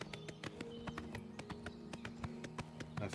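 Horse hooves galloping in the game Oblivion Remastered: a quick, steady clip-clop rhythm of sharp hoof strikes, close and continuous over a low background drone.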